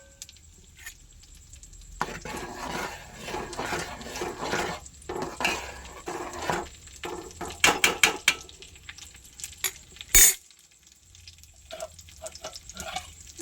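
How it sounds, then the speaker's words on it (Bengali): Food frying in a covered pan on a home stove while payesh is being made, with a lid lifted off and the contents stirred: scraping and clattering against the pan over a soft sizzle, then a sharp clang as the lid knocks. "তাই আমি ঢাকা খুলে এটাকে একবার নাড়াচাড়া করে দেব।"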